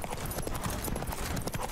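Roach, the horse in The Witcher 3: Wild Hunt's Blood and Wine expansion, galloping with a quick, steady clip-clop of hooves. The hoofbeats sit under a dense wash of game ambience.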